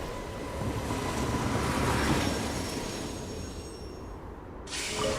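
A train rolls in with a steady rumbling rush in the Genshin Impact video game, a broad continuous roar that swells and then eases before a brief cut and a renewed burst of noise near the end.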